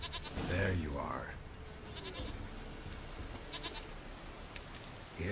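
A goat in The Witcher 3: Wild Hunt bleats in a short wavering call near the start, followed by quieter game ambience with faint distant bleats, a voice calling to it briefly.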